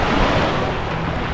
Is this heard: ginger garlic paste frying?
no